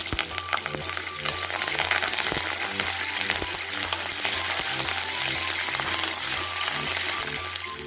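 Steady, loud sizzling and frying as chopped onion, garlic and curry leaves sauté in hot oil in a pan, with occasional stirring scrapes and no one talking.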